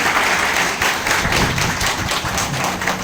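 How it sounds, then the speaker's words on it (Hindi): A seminar audience in Bhopal applauds with continuous, fairly loud clapping from a sizeable crowd, close and dense throughout, with a few sharper claps and thumps standing out. "उनके लिए बहुत बहुत एक बार जोरदार ताली चाहते हैं।"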